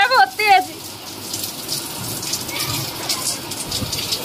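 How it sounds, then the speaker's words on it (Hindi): Heavy, wind-driven rain falls in a dense, continuous hiss of drops hitting surfaces, opened by a brief high chirping call in the first half-second. "रिम झिम बरसात आ रही है तेज वाली, पैल पैल पड़ रही पानी।"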